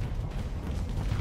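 Missiles launching in the Starsector space combat game, a dense, continuous low rumbling roar of rocket fire and booms, loud and unbroken for the whole moment with no speech.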